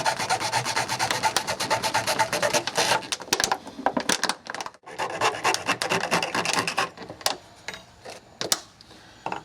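Rapid back-and-forth rasping of a hacksaw blade cutting through a plastic PET bottle, steady strokes that break up briefly before resuming, close and fairly loud.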